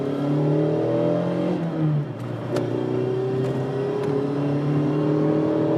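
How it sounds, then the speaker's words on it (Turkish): A Mazda MX-5 engine pulls hard in second gear from about 2000 rpm, its loud, steady drone climbing in pitch, briefly dipping, then rising again without a break. "bak ikinci vites 2000 devirde şöyle bir hızlanması var"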